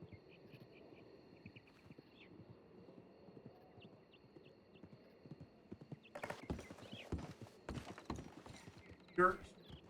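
Hooves clip-clop on a hard surface, faint at first under a low background, then several louder, sharper strikes near the end, with a brief whinny-like sound and faint talk.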